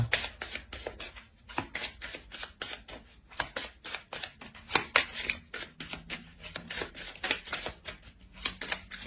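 Tarot cards being handled and drawn for a spread, a quiet close rapid series of crisp card flicks and shuffling snaps, dense and irregular throughout with no talking.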